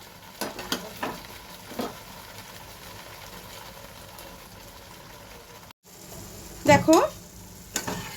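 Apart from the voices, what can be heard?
onions frying and being stirred for shrimp malai curry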